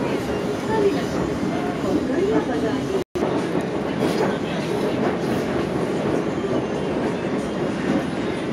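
Metro train running, heard from inside the carriage as a continuous rumble and rattle of wheels on track, with a brief dropout near the third second and a person talking over it.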